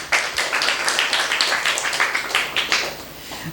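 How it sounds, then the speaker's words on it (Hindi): An audience at a poetry show claps together, a dense, steady burst of many hands that continues for a few seconds, fairly close, with no talk over it. "तो एक बार फिर से तालियां।"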